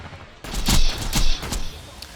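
The Pimpernel sniper rifle fires in the Borderlands video game as Maya fights enemies from cover: several loud, sharp shots in quick succession, each with a short, punchy echo.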